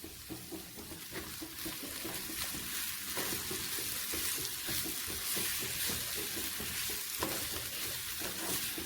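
Vegetables sauté in a pan for a Kerala-style thoran or mezhukkupuratti, a soft continuous sizzle with repeated stirring scrapes, quiet and close, with no talking.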